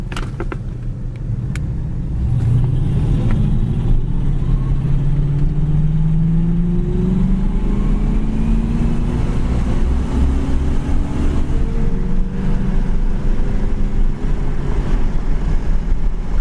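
Red 1981 Pontiac Firebird in clean original condition cruising on the road, a loud steady engine drone with a rising tone as it accelerates, plus wind and road rumble, no talking.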